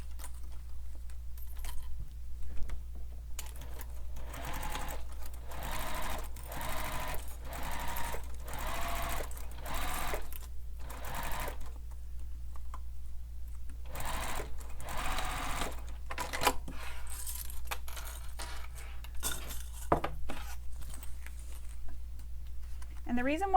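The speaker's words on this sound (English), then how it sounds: "Now we're going to baste this in place from the center out to each edge." A sewing machine bastes fabric for a Piero sling pack, its needle chattering in quick runs that stop and restart, close by, with a person speaking over parts of it.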